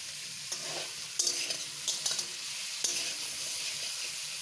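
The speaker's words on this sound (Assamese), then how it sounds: "ভাজি আছোঁ, চাই থাকক।" Kohlrabi and cauliflower fry in a pan with salt and turmeric, a steady close sizzle broken by several sharp scrapes and clicks of stirring.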